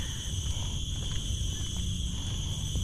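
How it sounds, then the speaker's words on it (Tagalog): Crickets in the Sungei Buloh wetlands of Singapore keep up a steady, high, continuous chirring, with faint scattered rustles and low background noise beneath it; no one speaks. "Sarap ng tunog ng mga kuliglig."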